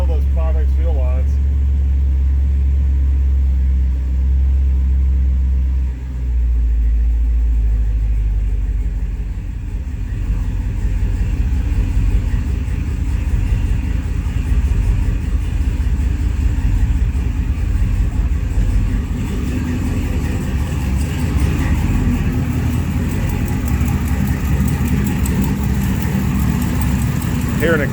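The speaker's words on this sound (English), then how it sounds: "exhaust leak" A turbocharged 5.3 V8 idles with an exhaust leak, a steady low rumble with a faint ticking chuff running throughout, loud and close, with a brief shift in tone early on.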